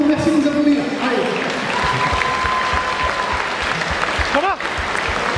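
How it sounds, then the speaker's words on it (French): An audience at the FC Bressuire football club's 50th anniversary celebration at Bocapole applauds continuously, a dense, even wash of clapping with a few voices briefly audible. "Pour tout ce parcours, merci de nous applaudir."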